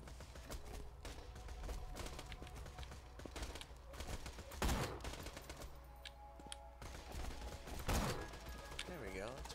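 Gunfire in the video game Borderlands 2, rapid bursts of shots crackling through a dense, continuous mix of game noise, with a couple of louder blasts standing out.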